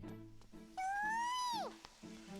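A single cat meows once, a clear rising-then-falling call lasting under a second, close and fairly quiet, with faint background sounds before and after.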